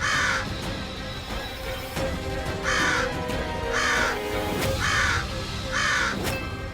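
Several crows caw loudly and close by, their calls repeating in a steady rhythm about once a second with no talk.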